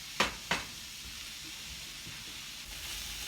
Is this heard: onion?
yes